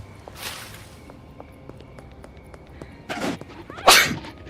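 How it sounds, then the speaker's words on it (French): One person sneezes loudly and close, a short breathy burst near the end, after a quieter sniffle, over low game background noise and footsteps. "Faut que j'éternue."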